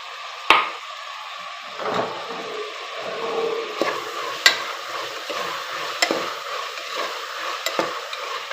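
Chopped vegetables with fresh coriander and ripe tomato being stirred as they fry in a pan, a steady close sizzle broken by sharp spoon scrapes and clacks against the metal every second or so.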